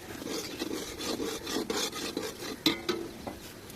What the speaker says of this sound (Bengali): এখন ভালোভাবে নেড়ে চেড়ে কষিয়ে নিব।